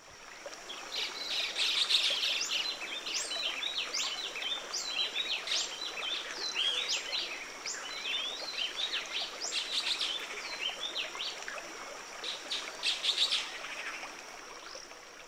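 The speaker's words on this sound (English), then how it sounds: "the black headed saltators are just across the river, vocalizing noisily every little while" Black-headed saltators and other birds call by the Huatulco River, a dense, continuous chorus of chirps and whistled phrases at moderate distance over a soft, steady trickle of flowing water.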